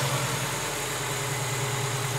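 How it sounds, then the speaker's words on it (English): A bagged mini truck's engine idles steadily and smoothly, with a low, even hum that holds constant throughout, close by and with no one talking. "And it idles perfectly smooth."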